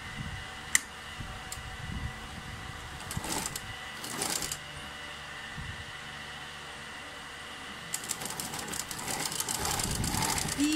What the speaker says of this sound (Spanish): voy a coser todo el costado hasta llegar acá al falso, que me coincida esta costura